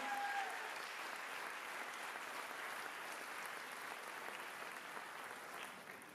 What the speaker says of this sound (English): let's give a round of applause for Angela Davis